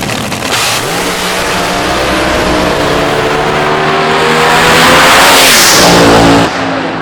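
A nitromethane AA/Fuel dragster with a three-disc clutch and 390 gear roars loudly and steadily down the drag strip at the Nightfire Nationals, its engine revving higher late in the run before cutting off abruptly.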